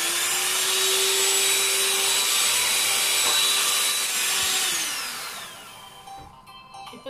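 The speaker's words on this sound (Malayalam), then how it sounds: "ഇനി ഇത് ബീറ്റ് ചെയ്യാം" An electric beater whips cream for a chocolate cake with a loud, high whirring whine that holds steady, then slows and fades as it switches off near the end.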